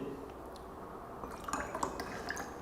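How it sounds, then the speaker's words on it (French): Kangen water poured into glasses of different liquids, with a faint trickle and scattered drips and small splashes growing busier toward the end, close and quiet over a low room hum. "je vais prendre l'eau Kangen que je vais verser dans les différents liquides"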